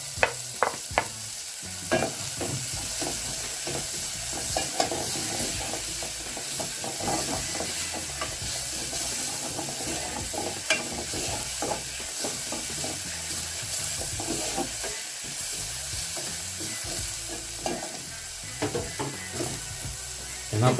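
Onions and ginger fry in a pan for carrot rice and beef, giving a continuous sizzle broken by frequent close spatula taps and scrapes.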